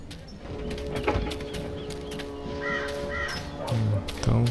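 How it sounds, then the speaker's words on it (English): Two calls from a bird ring out in the video game Dreamfall Chapters, brief and moderately distant, over a busy ambient game soundscape with low rumbles and scattered clicks. "Go look for that goddamn bird over there."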